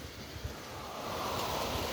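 Steady autumn wind rushes across the microphone at a riverside fishing spot, a broad hissing roar that swells slightly louder toward the end, with no voices.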